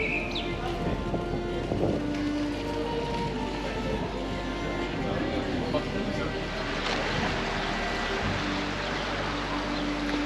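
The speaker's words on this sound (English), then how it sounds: "That lovely sound, isn't it, of water." Water flowing steadily in a town setting, a continuous close wash of sound with background noise and brief snatches of voices and activity around it.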